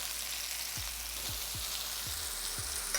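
Cajun chicken sizzles steadily while frying in a pan, a continuous bright hiss with a few soft low thumps spaced through it, no voices.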